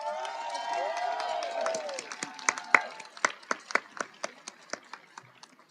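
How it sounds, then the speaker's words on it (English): At a nursing pinning ceremony, a spoken voice gives way to a round of applause for family, friends, faculty and staff, thinning into a few distinct fading claps near the end. "Please give a round of applause to the family, friends, faculty, and staff who have been with you on this incredible journey"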